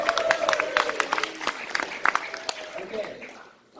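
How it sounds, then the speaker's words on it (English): Audience at a university launch event applauding, brisk clapping that fades out toward the end, with a voice talking over it. "So, big round of applause to Andy."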